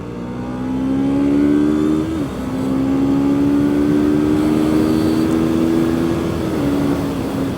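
A Kove Cobra 321r motorcycle being ridden over rough terrain, its engine droning steadily loud and close, rising in pitch under acceleration with two brief dips at gear changes, no voices.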